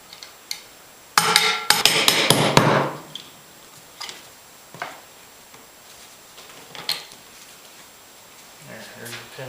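A brass pin punch is struck while disassembling an M1 Garand, giving a quick burst of several sharp metallic taps close by, followed by scattered single knocks and handling clatter.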